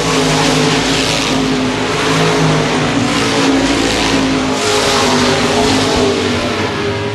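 Modified race cars, including the 88 car, roar around the Baer Field Speedway oval during the Gold Cup 50, a loud, continuous engine drone that swells and fades as cars pass.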